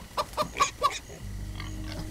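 Chicken clucking in the video game Minecraft Story Mode, four short clucks in quick succession followed by a low steady ambient hum.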